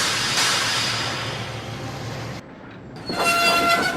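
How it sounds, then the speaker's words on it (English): Mavis the diesel engine braking in a Roblox Thomas and Friends game: a steady loud rumble, a brief drop, then a sharp squealing screech with tonal whine at the end. "Whereas Mavis's brakes sound like this."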